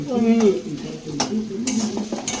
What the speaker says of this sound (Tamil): கத்திரிக்காய் போட்டாச்சு இது முருங்கைக்காய் போட்டாச்சு அப்புறம் கொஞ்சம் நேரம் வதக்கி